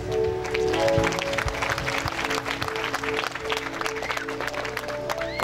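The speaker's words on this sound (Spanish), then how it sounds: "Fuerte los aplausos." Applause from an audience at a community event in Ixcotoyac, a steady dense wash of clapping lasting several seconds, with faint voices and a tonal hum beneath.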